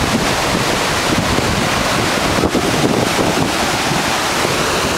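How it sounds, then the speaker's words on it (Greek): Water falls at the Tzoumerka waterfalls in Greece with a loud, steady roar, broadband and continuous like crashing surf, with buffeting wind noise on the microphone throughout. "καθώς πέφτουν τα νερά, σχηματίζουν υδρατμούς"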